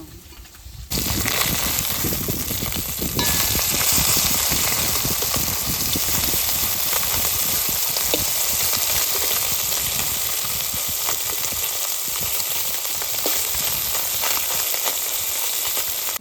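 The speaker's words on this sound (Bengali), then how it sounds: "মাছ সব ভাজা হয়ে গেছে" Fish frying in a pan in a village kitchen gives off a loud, dense crackling sizzle that rises abruptly and then runs on steadily without letting up.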